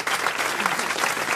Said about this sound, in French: et on vous applaudit Dolores, même si c'est perdu